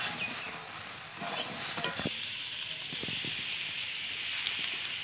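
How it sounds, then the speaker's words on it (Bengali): Steady sizzling hiss from frying in a pan for a home-style chicken curry with potatoes, with a few soft stirring clicks and scrapes, moderately close and without talk. "এটা হালকা কিছুক্ষণ ভাজবো, বেশি ভাজবো না"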